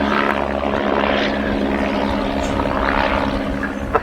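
A pair of Chipmunk T.10 propeller aircraft fly aerobatics at the Cosford Airshow, a continuous buzzing propeller drone with a pulsing, swelling and fading quality as the planes roll, heard from a distance.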